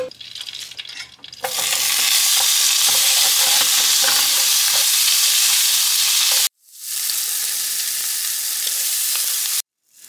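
Loud, steady sizzling and crackling of butter frying in a hot pan for asparagus, cut off briefly by two short silences.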